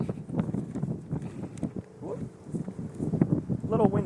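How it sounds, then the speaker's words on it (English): Gusty wind buffets an outdoor wedding ceremony, a low rumbling roar across the microphone that swells and dips throughout, with someone speaking over it. "Little windy."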